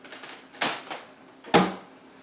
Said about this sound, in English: I'm going to pull out a long sheet of plastic wrap.